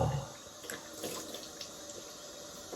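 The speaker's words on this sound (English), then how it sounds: "time to put some hot water on my face" Hot water runs from a tap into a sink before shaving, a steady soft splashing stream that stays fairly quiet, with a few louder splashes and a brief knock at the start.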